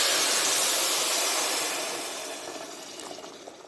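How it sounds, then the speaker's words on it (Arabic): Water is poured into a cooking pot for rice, a bright splashing rush that starts strong and gradually thins and softens over a few seconds, heard close with no speech. "بعد كده هنحط ايه؟ نحط الميه."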